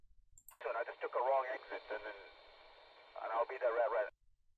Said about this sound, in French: Alors on commence par la radio de taxi.